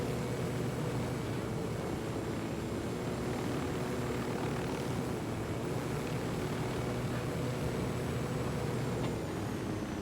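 A helicopter flying in the video game Ghost Recon Wildlands, a steady droning rotor and engine hum holding at an even, moderate level throughout with no voices.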